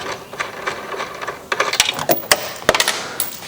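Screws being unscrewed from a power-folding tow mirror mount on a Chevy Silverado or GMC Sierra, with close, uneven ratcheting clicks and sharp metallic ticks that grow more pronounced toward the end.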